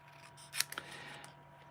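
Scissors fussy cutting small rectangles of holiday patterned paper, leaving a thin border, a few quiet close snips clustered together over a faint room hum.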